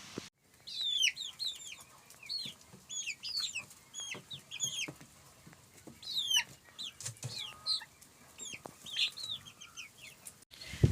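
Several young chickens in a cage cluck and chirp in quick, overlapping bursts throughout, fairly close, with occasional louder squawks and light background noise, on a cool autumn day.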